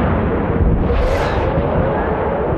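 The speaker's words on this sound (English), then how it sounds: "Look, people are shooting, fighting each other" Ships trading fire in a space battle in the game EVE Online, a continuous dense rumble of distant cannon and explosion noise with a brief swell of brighter hiss in the middle, steady and loud throughout.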